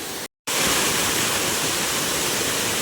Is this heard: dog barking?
no